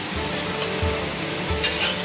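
Potatoes frying in hot oil in a kitchen pan give a steady, close sizzle that crackles and bubbles throughout, with soft stirring bumps and no voices.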